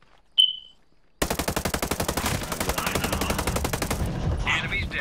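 Video game gunfire in Ghost Recon Breakpoint, beginning with a single sharp shot, then a long, rapid, evenly spaced automatic burst that runs loud and close for several seconds.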